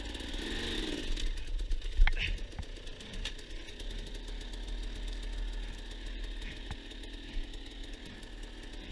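A dirt bike engine labours and sputters on a steep hard enduro mountain climb, loud and close with uneven revving and rough knocking bursts.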